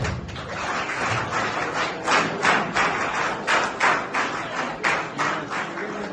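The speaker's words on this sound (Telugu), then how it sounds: "క్లాప్స్." Applause from a small group at an eyeglasses distribution event for students, steady close clapping with irregular louder pulses throughout.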